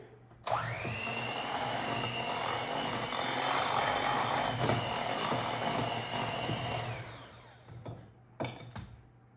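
An electric mixer beats key lime extract into pound cake batter, a loud whirring buzz that starts suddenly, runs steadily for about six seconds, then stops, followed by a few short knocks.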